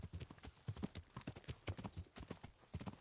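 Horse hooves in the Kingdom Come: Deliverance video game, a quick, regular clip-clop of a ridden horse, steady and close at moderate volume with no talk over it.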